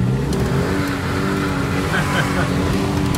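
A Jeep revs while driving, its engine roaring steadily up close with rough road noise; someone speaks over it.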